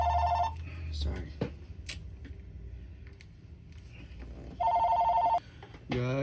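A telephone rings with two bursts of electronic trilling, one at the start and another near the end, separated by quieter handling noise in a repair workspace, with brief speech at the very end.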